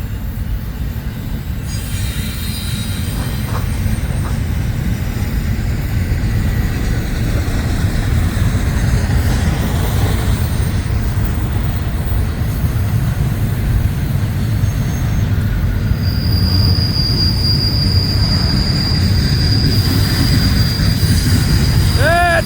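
A train passes close by at a junction near US 1 and West King Street in Florida, rumbling heavily throughout while its wheels squeal in long, shrill, wavering tones that grow sharper toward the end.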